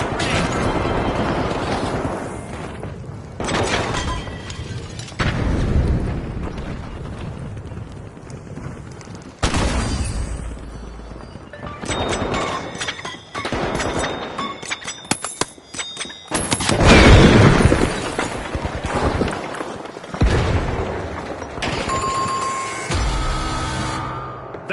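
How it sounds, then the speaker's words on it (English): Fire grenades burst in the arena shooter The Finals, mixed with gunfire. Heavy booms and crackling blasts come in irregular waves, some loud and close, with short quieter gaps between them and no speech. "Using fire grenade."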